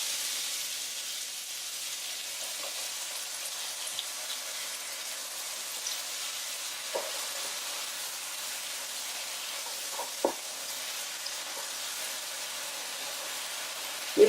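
Pad thai noodles cooking in a pan, a steady soft hiss and sizzle throughout with occasional faint pops and clicks, ending in a brief clatter.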